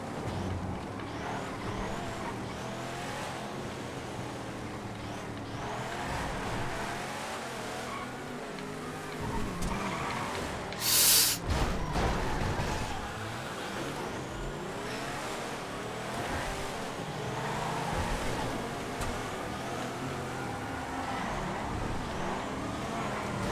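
Engine roar of a drag car in GTA FiveM during a random-car lap race, droning continuously and loud throughout, with a brief sharp burst around the middle that may be a skid.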